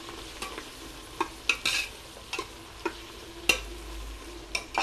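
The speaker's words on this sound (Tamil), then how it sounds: "இது நல்லா சிம்மில் வச்சுட்டு நல்லா ப்ரௌன் ஆகிற வரைக்கும் நல்லா வதக்கிக்கோங்க" Chicken biryani ingredients sauté in a pan until browning, a soft continuous sizzle punctuated by sharp scrapes and taps of a spatula every half second or so, close and without talking.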